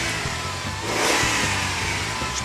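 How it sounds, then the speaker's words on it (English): A 2003 Jeep Liberty engine with a misfire revs up steadily, a loud, continuous mid-range roar that swells around the middle and holds high to the end, with a rough pulsing undertone and no voices. "Just rev it."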